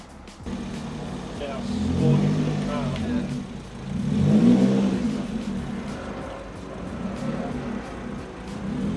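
A Suzuki Swift Sport ZC31S runs on a dyno, its engine droning steadily and swelling in two revving surges, close and loud, with muffled background noise.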